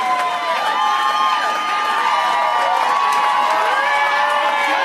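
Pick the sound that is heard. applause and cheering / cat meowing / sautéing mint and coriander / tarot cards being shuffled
applause and cheering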